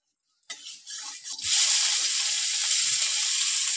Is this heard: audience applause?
no